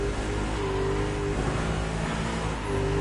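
A car engine in The Crew Motorfest holds a loud, steady growl, a sustained rev that stays close and level throughout.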